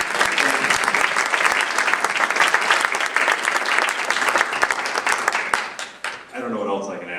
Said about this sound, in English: I just want to give a big round of applause for Chris.